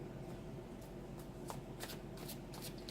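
Tarot cards are shuffled in a steady, continuous riffle of soft papery flicks, close and fairly quiet, with a few sharper card snaps standing out near the end.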